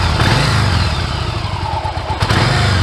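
Yamaha XV1100 Virago V-twin motorcycle engine running just after starting, a loud, close, deep rumbling idle that continues steadily throughout.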